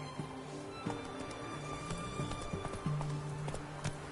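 Roach, the horse in The Witcher 3 video game, gallops with steady rhythmic hoofbeats, close and clear, over sustained tonal game sounds.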